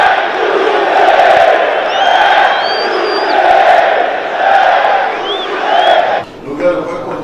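Brazilian football fans at a São Paulo stadium chanting a player's name, loud rhythmic swells of massed voices with whistles and whoops rising above, easing off near the end.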